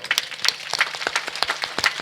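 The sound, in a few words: audience clapping hands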